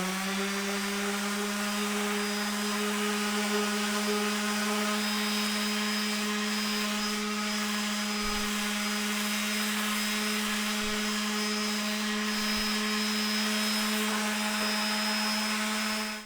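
Power sander working over wooden boards for a firewood shed pallet build, a loud continuous steady whine with a strong tonal hum that runs unbroken throughout.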